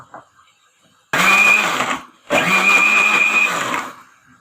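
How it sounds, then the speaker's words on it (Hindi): A kitchen blender grinding yogurt with spices into a thick paste runs in two loud whirring bursts, about a second and a half each, separated by a brief pause, with a high motor whine over the churning. "इन तमाम चीज़ों को हम ग्राइंड कर लेंगे।"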